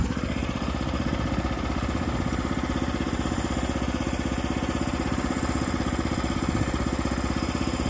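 Woodland Mills HM 122 sawmill's small gas engine running at full throttle, a steady loud mid-pitched drone with a fast even pulse, close and continuous for the whole stretch.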